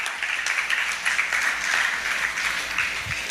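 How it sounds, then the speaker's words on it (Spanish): Church congregation applauding during a worship service, a sustained dense wash of many hands clapping at even loudness throughout, with a faint voice near the end. "Denle un aplauso al Señor entonces."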